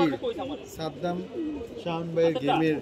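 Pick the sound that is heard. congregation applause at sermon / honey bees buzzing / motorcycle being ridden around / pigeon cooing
pigeon cooing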